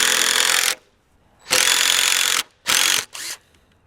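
An impact driver drives screws into wood while building raised garden beds, sounding in three close, loud bursts of buzzing rattle, the last one short and stuttering, with quiet gaps between.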